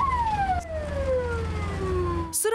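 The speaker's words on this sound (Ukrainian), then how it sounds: "Сирени швидкої допомоги жителі російського містечка Бор, що в Нижньогородській області, чують регулярно." An ambulance siren in the town of Bor, Nizhny Novgorod region, wails in a long descending sweep, loud and close over road rumble, with a brief sharp sound cutting in at the very end; no voices.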